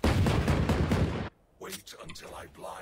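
Rapid gunfire from a weapon skin in the Valorant video game rattles out as a loud burst for over a second, cuts off, then a few softer in-game clicks and effects follow.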